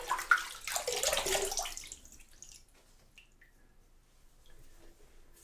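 Running tap water splashes loudly for about two seconds as a face is rinsed after shaving, then cuts off, leaving faint drips and quiet handling sounds.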